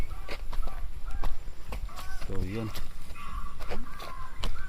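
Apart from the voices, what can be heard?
downloaded crow-scaring sound played from a cellphone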